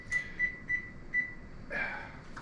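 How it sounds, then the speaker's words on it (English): A kitchen timer is set for a batch of lemon white chocolate cookies: four short, evenly spaced electronic beeps ring out close and clear, followed by a brief rustle as the timer is handled. "Get our timer set. I'm gonna set it for 11 minutes this time"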